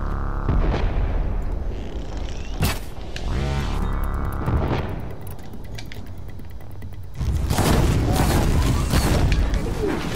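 Heavy booming cannon blasts and rumbling explosions from the game Horizon Zero Dawn, loud and close, with a sharp bang midway and dense layered effects throughout.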